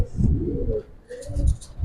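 Giribaz pigeons coo close by in low, throaty bursts, with a brief chirp in between, heard in a short run without any talk.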